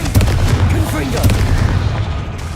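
A Confringo blast spell explodes in Hogwarts Legacy, heavy booming impacts rumbling loud and close for a couple of seconds, with voices shouting over it.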